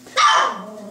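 A single short, high yelp from a young puppy, close by, trailing off into a soft whine.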